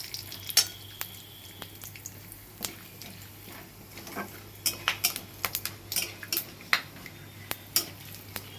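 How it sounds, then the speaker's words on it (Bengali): Cumin seeds, bay leaf and whole garam masala crackle in hot oil under a faint steady sizzle, with scattered sharp clinks and scrapes of a utensil against the pan, growing busier toward the end. "জিরে, আর গোটা গরম মশলা ফোড়ন দিয়ে দিলাম।"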